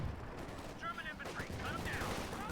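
Bursts of .50 cal machine gun fire in a Company of Heroes 2 battle, mixed into dense game noise at moderate loudness, with rapid rattling volleys blending into the din.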